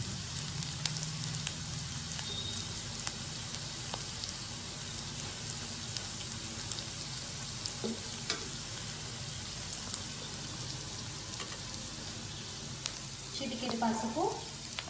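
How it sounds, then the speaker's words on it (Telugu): Green chilli, ginger garlic paste, coriander powder, turmeric and chilli powder fry in a pan for egg biryani, giving a steady, close sizzle throughout with faint stirring near the end. "కారం అన్నీ వేసుకుని బాగా ఫ్రై చేసుకోవాలి."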